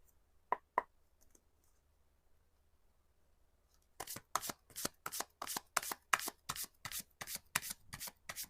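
Tarot cards drawn and laid out on a table: two soft isolated flicks, a quiet pause, then a fast run of close, crisp card snaps and slaps in a quiet room.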